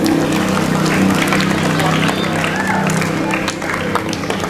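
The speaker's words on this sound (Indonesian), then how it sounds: "Berikan aplaus yang meriah untuk paslon nomor 1 dan nomor 2" Audience applauding the candidates at a school student council (OSIS) debate: sustained dense clapping from a crowd filling the room, steady and loud throughout.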